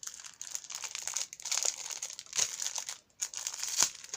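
Plastic packaging holding a Temu scrapbooking item, a Victorian-style oval frame with a small bow, is opened, with close, bursty crinkling and rustling that pauses briefly before resuming.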